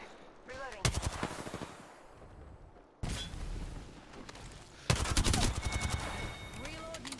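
Gunfire in Apex Legends crackles in several loud bursts of rapid automatic shots, each burst starting sharply and trailing off, with quieter gaps and a few faint chimes between them.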